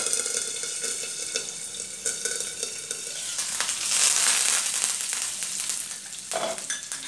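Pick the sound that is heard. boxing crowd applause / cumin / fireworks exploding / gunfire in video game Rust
cumin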